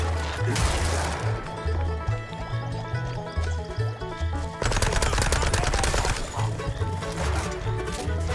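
Rapid, continuous SMG fire in the video game Mouse: P.I. For Hire, loud and close, in sustained bursts over game music with no talking.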